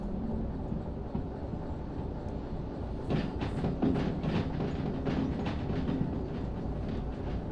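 Train engines in the railway game Derail Valley rumble steadily, and from about three seconds in, rhythmic mechanical chuffing and clanking rises over the drone. No voices are heard.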